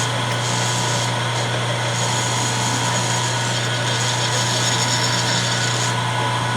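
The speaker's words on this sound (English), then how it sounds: "I'm just going to hit it with a chamfer tool." A chamfer tool works a T-nut hole on a Sheldon lathe, giving a steady, continuous machining whir with a strong low hum, loud and close with no talking.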